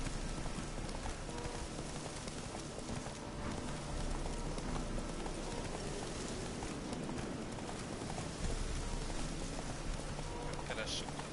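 Roach the horse gallops with rhythmic clip-clopping hooves in the video game Witcher 3, a steady run heard up close under game ambience and a player's talking.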